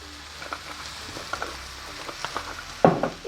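A mushroom filling fries in a pan with a soft, low sizzle and scattered light taps and stirring clicks, then a louder clatter near the end, with no talk.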